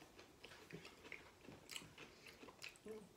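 Pig Out nacho cheese flavored pigless pork rinds crunched close up, a steady series of crisp bites and chewing crackles with no talking.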